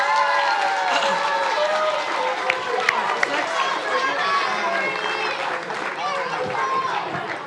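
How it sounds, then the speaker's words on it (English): Crowd applause at an end-of-season school sports awards ceremony, clapping mixed with lively chatter and children's voices in a busy room, with a few sharp louder claps standing out. "big round of applause for our 15"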